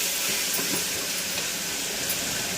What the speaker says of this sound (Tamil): இதெல்லாம் சேர்த்து நல்லா வதக்கிக்கோங்க.